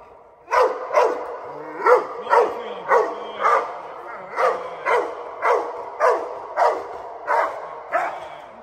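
A guard dog barks during protection training, about a dozen loud, close barks in a steady rhythm roughly every half second, each one sharp and evenly spaced.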